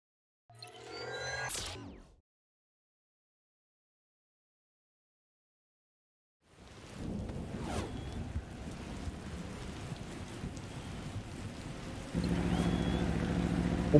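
Rain in the RiMS Racing motorcycle video game. A brief burst is followed by several seconds of silence, then a continuous hiss of falling rain that grows slightly louder near the end.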